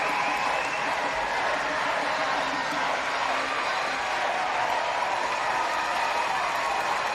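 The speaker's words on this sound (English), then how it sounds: "The crowd erupts with USA chants" A crowd cheers and chants after a USA gold medal win over Canada at a junior championship, a dense, sustained roar of many voices mixed with applause, continuous and loud throughout.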